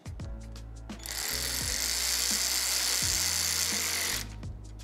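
Alloyman cordless ratchet wrench tightening bolts: a close, loud motor whir of about three seconds, framed by short clicking trigger blips before and after.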